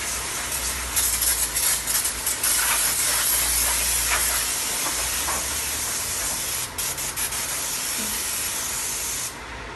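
Brake cleaner sprayed onto rear disc brake parts in a long, steady, close hiss lasting most of the clip with slight flutter, ending abruptly, no speech over it.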